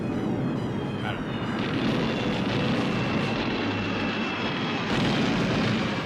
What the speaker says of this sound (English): Incredible explosions!